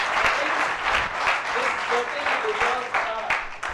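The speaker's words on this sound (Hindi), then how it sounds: "थोड़ी जोर से ताली बजा दो," An audience at a talk on envisioning India in 2047 claps loudly and steadily, a thick continuous wash of applause with a few voices faintly under it.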